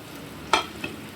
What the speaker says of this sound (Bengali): এবার আমি পেঁপে আর আলু ভাজাগুলো দিয়ে দেব দিয়ে চিংড়ি মাছটাও এর মধ্যে দিয়ে দেব